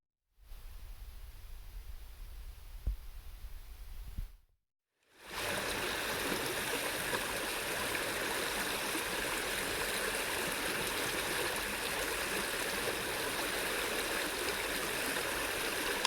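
A creek at a stream crossing on the Pinhoti Trail flows with a steady, even rushing hiss. It drops out briefly once, then returns louder and unbroken, close by, with no voices.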